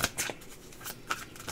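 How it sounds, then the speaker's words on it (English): A tarot deck shuffled by hand, close and clear, with several quick papery riffles and card slaps spaced across the moment, no voice over them. "I need to shuffle in from the last reading, so I want to make sure I shuffle more"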